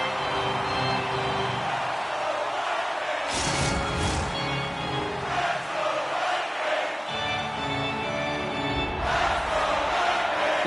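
A hockey arena crowd in an EA Sports video game roars steadily, swelling in louder surges and easing back over several seconds, with no talk on top.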